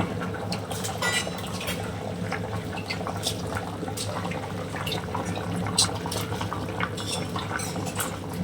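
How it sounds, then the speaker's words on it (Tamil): Water bubbling at a rolling boil in a pot before rice is added for biryani, a steady churning hiss with frequent small pops and gurgles throughout. "பாருங்க தண்ணி நல்லா கொதிக்கிட்டு"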